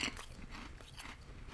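Crunchy Korean shrimp-flavoured snack being bitten and chewed close up, a short burst of crisp crackling crunches over a steady low background.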